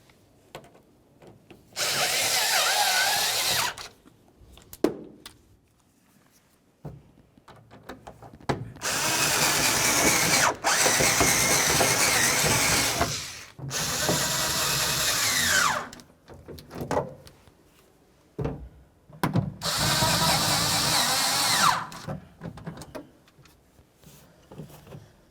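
A power drill drives screws into a 2010–2013 Ford Transit Connect tail light assembly, running in several sustained bursts of a few seconds each with short quiet gaps between, loud and close with no talking.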